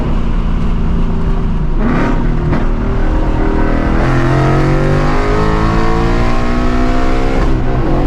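A loud, throaty straight-piped S650 Mustang GT exhaust revs and drones steadily, with the engine pitch rising and falling through several blips, close to the microphone.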